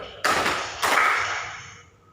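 A small group clapping hands together in a guidance session, two sharp, dense bursts of claps about half a second apart, the second ringing out and fading.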